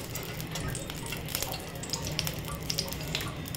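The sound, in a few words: whole garam masala spices sizzling in melted ghee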